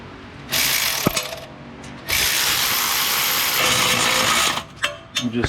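A Milwaukee cordless handheld ratchet whirs in two long, loud bursts while snugging head gasket bolts, followed by a few short clicking pulls of the tool nearby.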